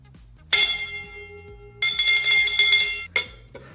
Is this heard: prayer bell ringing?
yes